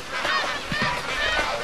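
A flock of geese honks continuously and close, many overlapping calls forming a dense, noisy chorus with no speech.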